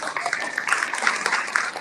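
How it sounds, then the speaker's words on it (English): Dense, continuous applause from a conference audience at a women's sustainability summit honoring a panelist named Olivia. Many hands clap close and fairly loud, with a few sharper claps standing out over the rustling wash. "Please, another applause for her."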